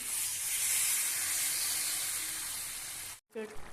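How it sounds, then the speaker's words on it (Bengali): Water is added to a hot pan of fried onions and prawns for a jackfruit and prawn curry, bursting into a loud, steady steam hiss for about three seconds that cuts off abruptly, followed by a brief soft clatter. "এবার দিয়ে দেবো জল।"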